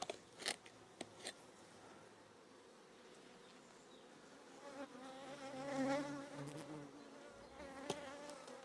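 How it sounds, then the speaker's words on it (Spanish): Insects buzz steadily at close range, swelling louder midway with a few sharp clicks and taps scattered throughout; no voices. "Avispas por todos lados."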